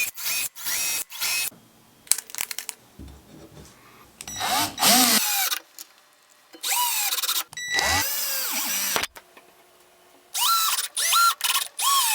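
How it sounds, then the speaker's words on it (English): A power drill whirs in repeated short bursts, rising and falling in pitch as it bores pilot holes into smooth wooden boards, with brief pauses between holes. "we want to drill some pilot holes in the wood"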